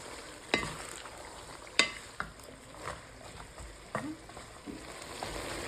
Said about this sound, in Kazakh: Шамамен 10 минуттай қатты отта біздің сәбізіміз қуырылды.